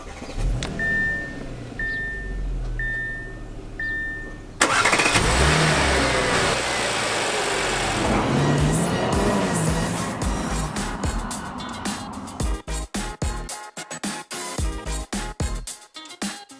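A repeating electronic chime, then an Audi A8 engine cranks and starts, revs up and settles into a running drone before breaking into choppy, fluttering bursts.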